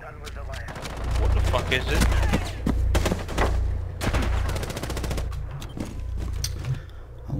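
Gunfire in Rainbow Six Siege, rapid bursts of automatic shots cracking in quick succession over a low rumble, loud and near, with players talking over it.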